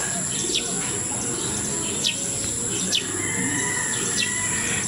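Racing pigeons in a loft, with soft cooing and a few sharp chirps over a constant steady hum, close by and moderately loud.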